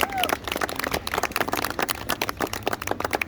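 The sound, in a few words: audience applause for a barista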